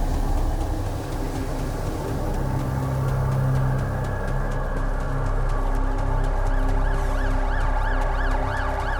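An ambulance siren wails loud and close in The Alters game, its tone rising and falling steadily over a low engine rumble, with no talk.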